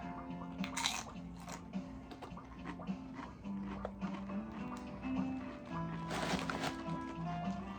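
Ketchup-flavored Doritos tortilla chips crunched and chewed close up, several crisp bites followed by steady chewing, with faint background tones underneath.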